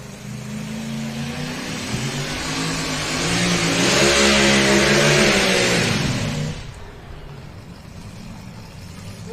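A Chevy pulling truck at a county fair truck pull, its engine roaring close and loud with a rising, wavering rev that peaks midway and then drops back to a lower, rough rumble.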